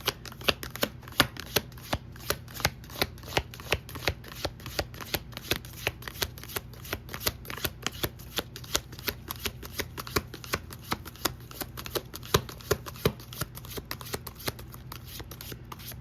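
A deck of tarot cards is shuffled by hand, a quick, continuous run of crisp riffling flicks and snaps at close range, steady throughout with no talking.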